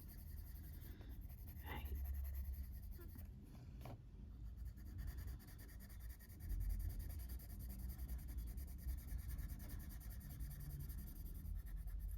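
Colored pencil scratching and rubbing across a page of a flowerscape colouring book, a steady soft scribble close by with a couple of sharper strokes, no talking.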